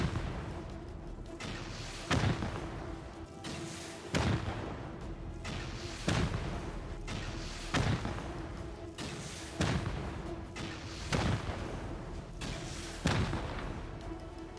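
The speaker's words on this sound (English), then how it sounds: "Next, we'll break the outer shell of the base by aiming 8 rockets to take out 2 walls and 2 foundations" Rockets explode against base walls and foundations in the survival game Rust, seven or eight heavy booms spaced about two seconds apart, each a loud thud with a rumbling tail under a steady background hum.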